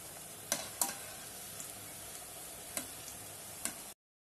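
Onion fritters (vada) fry quietly in hot oil, a soft steady sizzle broken by a few sharp crackles and pops, then the sound cuts off.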